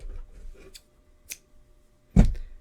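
Scissors cutting crochet yarn: a few faint rustles and soft handling noises, then a single crisp, close snip near the end.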